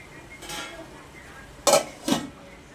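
Vegetables for a veg biryani are stirred in a pot, with a soft scrape followed by two sharp metallic clinks of the spoon against the pot, close and brief.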